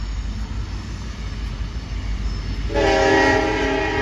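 A train horn blows loud and sustained through a town's main street, starting abruptly partway through over steady rumbling street and rail noise.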